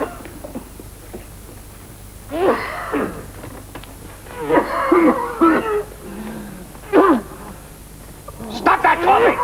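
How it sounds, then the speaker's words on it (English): Several throaty coughs and hacking bursts come in irregular clusters, loud and close in a quiet indoor room during a tense family scene from a stage drama. "Stop that coughing!"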